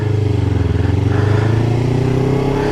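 A Kawasaki Ninja 400 motorcycle engine revs close by on small-town streets, a loud, steady throbbing drone that rises slightly in pitch as it runs.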